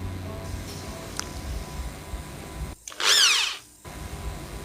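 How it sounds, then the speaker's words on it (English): An electric drill fitted with a new drill bit bores into a small piece of wood in a short, loud whining burst about a second long. Quieter handling noises come before and after it. "You can hear the sound of this drill."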